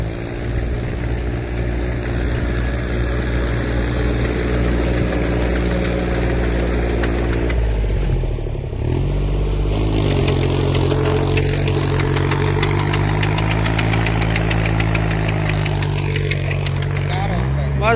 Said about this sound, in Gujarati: ઓલા ટ્રેક્ટર પાસે જઈએ ના કઈ રીતનું હાલે છે જોઈએ